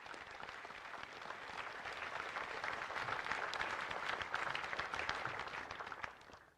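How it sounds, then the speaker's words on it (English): Sustained applause from the crowd at the Pearl Harbor memorial anniversary ceremony in Hawaii, even, distant-sounding clapping lasting about six seconds before tapering off, with no talk over it. "A round of applause for them."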